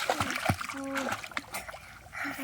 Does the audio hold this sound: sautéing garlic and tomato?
no